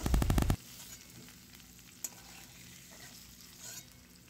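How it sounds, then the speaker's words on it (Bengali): Paneer cubes fry in hot white oil in a kadai, giving a soft continuous sizzle after a brief loud clatter at the start, with faint stirring touches throughout. "কড়ায় সাদা তেল দিয়ে তেলটা গরম হওয়ার পর পনিরগুলোকে দিয়ে দেওয়া হয়েছে।"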